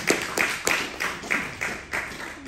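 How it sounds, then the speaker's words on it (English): A church congregation claps in praise during a sermon, a rhythmic series of distinct claps, moderately loud and a little distant, with some voices in the room. "Let's give a clap over to Him."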